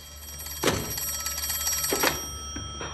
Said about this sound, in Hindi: आपको फोन उठा लेना चाहिए मिस्टर शेल्बी।